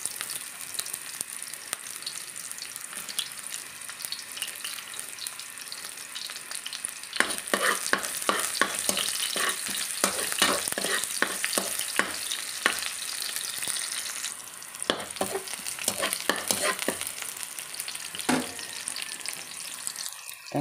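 Onion sizzles steadily as it fries in a pan for Filipino adobong kangkong, with the hiss growing busier and sharp scraping clicks of stirring starting partway through, close and alone.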